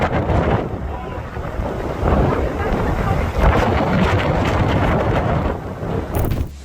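A boat rides through strong wind and crashing waves, with loud gusts buffeting the microphone and water surging steadily throughout.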